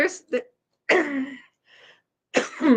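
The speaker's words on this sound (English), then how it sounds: "See, like that came out of nowhere. I haven't coughed all day." A sudden cough breaks out in short bursts between stretches of speech, fairly close and moderately loud, with a person talking around it.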